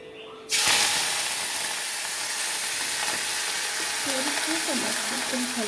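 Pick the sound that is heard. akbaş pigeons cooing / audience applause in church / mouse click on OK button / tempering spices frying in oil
tempering spices frying in oil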